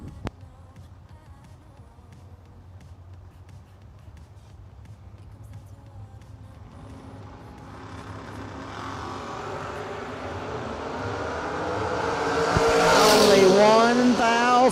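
Corvette and Camaro launching in a drag race at a racing event, engines building from a distant rumble into a loud, rising roar that peaks near the end, with an announcer's voice audible underneath.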